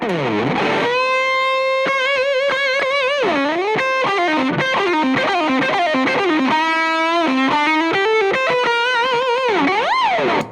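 A Jackson Pro Plus electric guitar plays through heavy distortion with an effects unit, a loud, sustained stream of bends, held notes and melodic runs, heard alone without talk.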